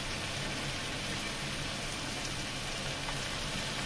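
Spices fry for Maggi noodles, giving a steady, dense sizzle that runs unbroken and fairly quiet throughout, with no talking.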